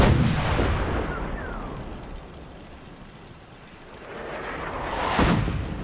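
Booming gunfire and explosions in the video game Fallout 4, with a heavy blast fading over several seconds and a second burst near the end, sharp and loud over a rumbling background.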